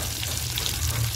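Eggplant sizzles as it sautés in a hot pan, a brief, continuous frying crackle heard up close.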